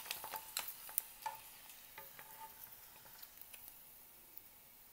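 Rainbow shrimp chips frying in hot oil, a faint soft sizzle broken by scattered light crackles and pops as the chips puff up one at a time.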